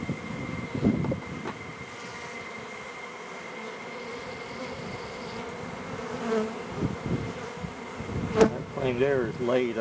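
Honeybees buzz steadily around an open eight-frame deep hive, a close, continuous hum with individual bees whining past, under occasional handling noises.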